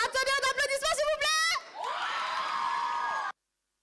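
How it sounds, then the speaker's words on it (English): An audience at an idol solo singing contest at the Japan Impact convention cheers and whoops, loud and sustained for about two seconds, after a burst of high-pitched performance sound. "Attendez un applaudissement, s'il vous plaît."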